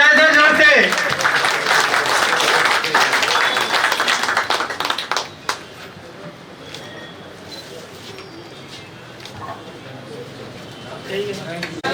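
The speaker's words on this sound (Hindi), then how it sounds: "तालियां बजाएं जोर से।" Loud, dense applause from an audience at a school farewell ceremony for retiring teachers fills the first five seconds, then quickly dies away to a quiet room with faint scattered sounds.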